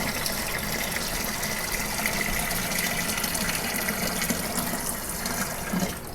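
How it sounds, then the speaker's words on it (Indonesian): Water gushes continuously down into a cheap Mito washing machine tub, a steady, full splashing rush with no voices. "Jadi langsung masukin, air langsung mengucur ke bawah."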